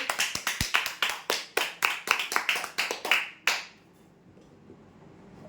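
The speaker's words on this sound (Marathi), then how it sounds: "जोरदार टाळ्या होऊ द्या यांच्यासाठी." A small crowd claps for prize-draw winners in a quick, fairly loud burst of about fifteen claps that stops abruptly. A quiet room hush follows.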